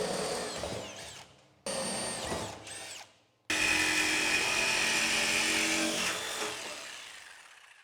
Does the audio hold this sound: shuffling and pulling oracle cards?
no